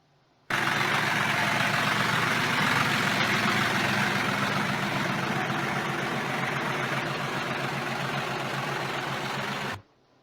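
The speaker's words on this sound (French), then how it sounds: "conduisant un tracteur comme un professionnel" A tractor engine runs at a steady, heavy idle in a northern Indian village, a loud continuous low rumble that starts abruptly and cuts off near the end with no talking.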